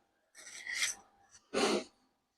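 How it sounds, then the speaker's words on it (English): Squeegee dragged across screen printing mesh to spread sensitized emulsion, two short raspy scraping strokes, close and faint, with a brief pause between them. "I'm using a squeegee here."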